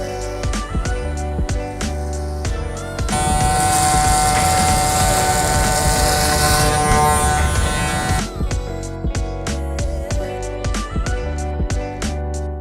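Electric hair clippers with a guard running steadily for a low skin fade, a constant close buzz with a denser, louder stretch in the middle and intermittent clicking, no speech.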